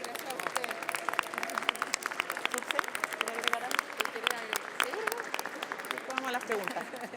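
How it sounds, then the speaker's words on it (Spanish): Audience applauding community organizations at a government press briefing in Chile, steady clapping throughout with voices talking over it. "Un aplauso para ustedes"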